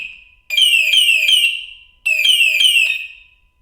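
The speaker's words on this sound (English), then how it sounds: "I guess that's how the alarm works" A Ducati Multistrada V4 Rally motorcycle's security alarm blares at close range in two loud bursts of rapidly warbling, falling electronic tones separated by a brief pause.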